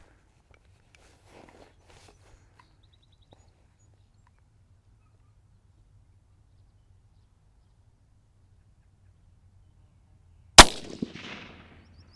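A single sharp .22 Magnum rifle shot cracks out near the end after long quiet, aimed at a ballistic gel block at 100 yards, followed by a brief fading echo; faint rustling comes earlier.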